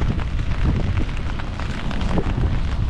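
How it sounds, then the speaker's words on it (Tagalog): Strong wind gusting on a beach by the sea in monsoon weather, a loud steady rumbling buffet across the microphone with no voices. "Uy, lakas ng hangin."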